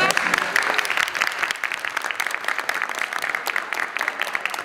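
Lecture-hall audience applauding at the end of a talk, a dense, steady wash of many hands clapping that holds at an even level throughout.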